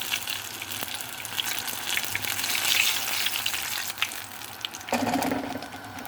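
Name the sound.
eggplants frying in oil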